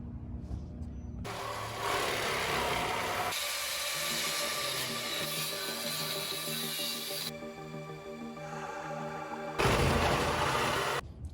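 Loud, sustained cutting of a VW Beetle's sheet-metal body to open inspection holes, a harsh grinding roar in long bursts with brief pauses and a sharp restart near the end, no talk.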